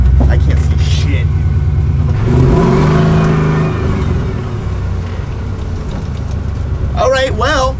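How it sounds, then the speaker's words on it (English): A car moving along a road on its first drive after a startup, its engine humming and rising steadily under a broadband rumble, with voices talking over it throughout. "good news is it's driving, it's moving, and it hasn't shut off yet"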